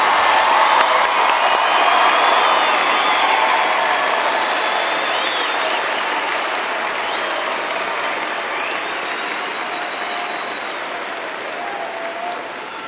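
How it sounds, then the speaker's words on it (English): Large audience applause at a university spring commencement ceremony, a long, loud wash of clapping mixed with cheers and whoops, strongest at first and slowly tapering over about thirteen seconds. "Let's have a round of applause for all of our undergraduate students."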